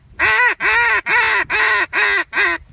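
A hunting instructor blows a duck call close up, six loud, raspy quacking honks in a steady even rhythm, each about half a second long with short gaps between.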